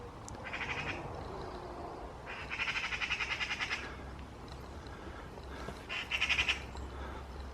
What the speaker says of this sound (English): it's a magpie or a jay making the noise